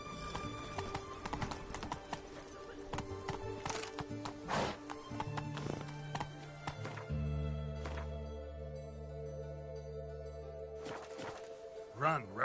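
Roach, the horse in The Witcher 3, gallops with rapid rhythmic clip-clop hoofbeats up close, a whinny breaking through, while game characters speak over the riding.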